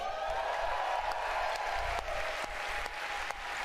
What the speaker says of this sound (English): Everyone's cheering for the Switch.